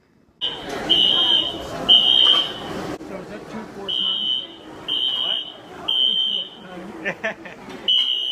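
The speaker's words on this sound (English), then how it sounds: "we had fire drill. And that was a false alarm." A smoke or fire alarm beeps loudly during a false-alarm fire drill at a university, sounding in repeated high-pitched bursts with short gaps, while people talk nearby.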